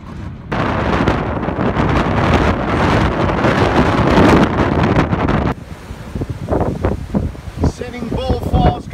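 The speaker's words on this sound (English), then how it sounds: "This wind is no joke." Strong gusting wind at Sitting Bull Falls in the Guadalupe Mountains, a loud continuous roar buffeting the microphone, easing slightly later as a person talks over it.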